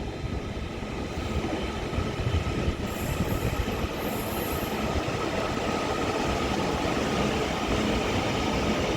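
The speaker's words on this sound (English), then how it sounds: "1400 Northern service to Manchester Airport, which is going to be a class 331" A Northern class 331 electric train at Liverpool Lime Street station, a continuous rumbling roll of wheels on track with rail noise and brief high squeals, heard close and steady throughout.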